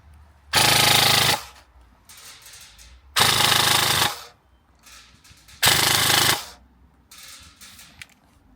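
Bolster Armouries AEGIS rifle fired semi-auto from a supported position on an outdoor range, three loud sharp reports spaced evenly a couple of seconds apart, each with a short ringing tail.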